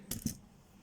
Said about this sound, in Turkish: Birkaç kuruş atıyoruz.